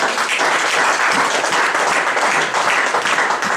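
A church congregation applauds and acclaims the Lord, a dense, steady wash of many hands clapping together, loud and continuous throughout.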